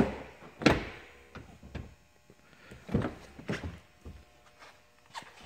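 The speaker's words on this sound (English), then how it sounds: "soft closed doors" A soft muffled thunk of a soft-close car door closing on a 2012 BMW M6 Convertible, followed by a few faint light knocks and clicks in a quiet space.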